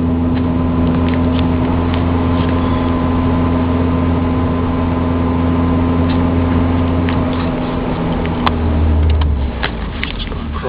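A 1990 Volvo 740 GLE 16-valve drives across a parking lot, its engine a steady close droning hum with constant low rumble throughout and a brief swell near the end.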